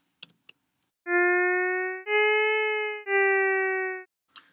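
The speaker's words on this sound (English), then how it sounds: "now you hear that this overarching modulation that's 3 seconds long is being applied sort of piece by piece to the underlying phrase" Synthesized tone phrase of three sustained notes, each bending in pitch as one slow 3-second vibrato modulation is applied piece by piece across them, clean and loud, framed by faint clicks and no voices.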